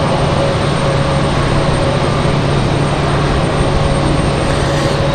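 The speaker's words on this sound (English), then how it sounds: "So that was American Airlines 2685 headed to Dallas Fort Worth." American Airlines jet departing Raleigh-Durham International toward Dallas Fort Worth, a loud, steady broadband engine roar with a sustained tonal whine, continuous and close, no voices.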